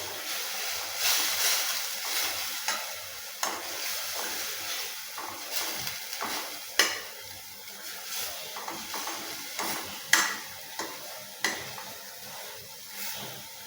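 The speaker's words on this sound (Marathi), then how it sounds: "हे सगळं मिश्रण एकजीव करून घ्यायचं आहे" Spoon stirring a spice mixture of turmeric and garam masala in a pan for a traditional village recipe, with a steady scraping texture, a faint sizzle underneath and repeated sharp clinks of the spoon against the vessel, close and alone.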